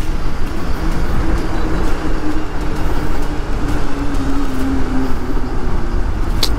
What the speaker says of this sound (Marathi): आता तो नॉकिंग, आता इंजिनचा असा आवाज येतोय ना